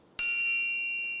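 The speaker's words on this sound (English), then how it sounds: "It's an orchestra triangle," An orchestra triangle struck once, giving a bright, clear metallic ding that rings on with a long, shimmering sustain, alone and close.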